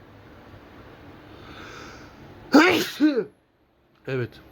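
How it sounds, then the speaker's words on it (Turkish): A person clears their throat and gives a couple of harsh coughs, followed after a pause by another short cough, close up. "Şimdilik hani biraz öksüreceğim de."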